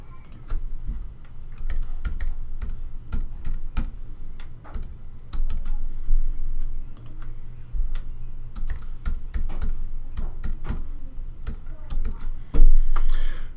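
Rapid clicking of a computer keyboard as a new password is typed, with uneven bursts of keystrokes and short pauses, loud and close.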